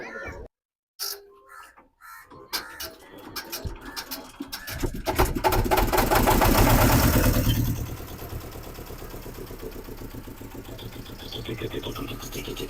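The engine of a crowded passenger boat on the river at Poolampatti, Tamil Nadu, carrying over thirty people, builds into a loud, steady broadband rumble and drone that holds to the end, after a few quieter moments at the start.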